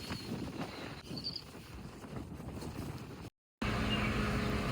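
Strong wind roars across the seating area of a RoRo ferry on the way to Hazira, Surat, a steady close buffeting rumble with gusts that cuts out briefly before returning just as loud.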